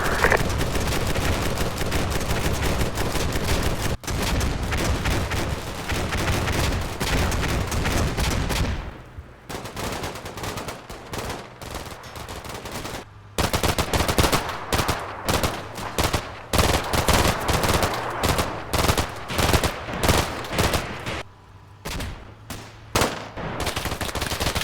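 Stryker armored vehicles in Combat Mission Shock Force 2 pour sustained fire into a hospital: dense, continuous machine-gun bursts and rattling gunfire, loud and close, with brief lulls and choppy stop-start volleys.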